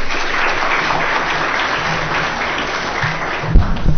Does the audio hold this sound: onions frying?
no